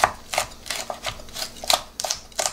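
Small chili peppers being finely chopped with a knife on a cutting board, a series of sharp, close, irregular knife taps with no talking.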